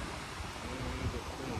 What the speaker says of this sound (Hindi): और हवा चल रही है